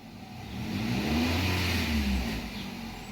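A Nissan Rogue with a P0011 camshaft timing fault idles close by in a steady low hum that swells slightly as the engine picks up a little, then settles back.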